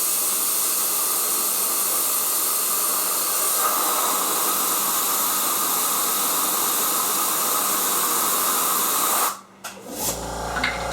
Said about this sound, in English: I'm going to blow it with some compressed air so I don't get any cracking as it cools.